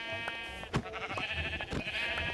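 Sheep in the Minecraft video game bleat in a wavering cry amid clicks and clattering game sounds, fairly faint with some busy background noise.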